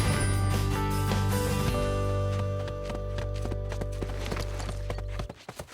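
Cartoon horse hooves clip-clop in a quick, even rhythm over a music bed, with brief sharp hits before the sound cuts off near the end.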